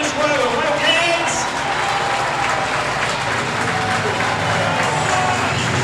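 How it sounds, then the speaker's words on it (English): Sustained applause and cheering from a speedway crowd along the start straight at Wimborne Road, Poole, continuous and fairly loud, with a commentator talking over it. "Big appreciation from the crowd here on the start straight at Wimborne Road"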